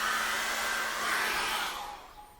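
Hair dryer blowing steadily over a freshly painted acrylic sunset landscape canvas, a loud continuous whirring rush that holds for about two seconds and then fades as it moves away or switches off.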